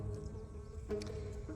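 Honeybees buzzing inside a hive, a steady close insect drone with a brief louder swell partway through, alone with no talk.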